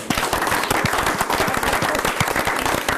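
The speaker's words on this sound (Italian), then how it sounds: "Fategli un applauso anche a loro." A studio audience claps loudly for a youth football team of under-13 players appearing on a local TV broadcast, a dense, continuous burst of applause with distinct close claps throughout.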